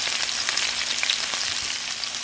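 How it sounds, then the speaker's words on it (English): Peppers and onions sizzle in olive oil in a pan, a steady, close, bright crackling hiss with faint pops throughout and no voices. "I love the sound of sizzling. So we're doing some peppers and onions here and some wonderful olive oil."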